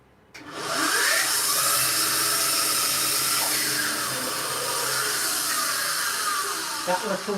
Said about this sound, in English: So what I can do now, just go over to the bandsaw.